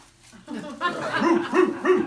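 A human voice imitates a dog, giving a few short, rhythmic barking yelps in quick succession.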